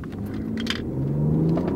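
BMW inline six-cylinder engine accelerating from a standstill, a steady close-up rumble with a tone that climbs smoothly as revs build, loud and continuous with no talk.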